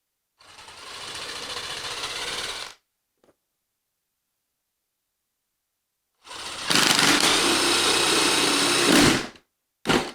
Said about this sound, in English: we're just using spade bit on a little Ryobi handheld power drill here